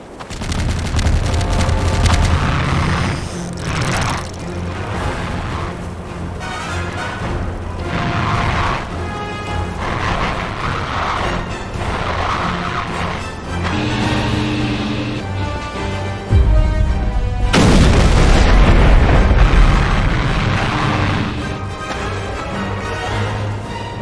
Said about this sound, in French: cette usine, ça va exploser.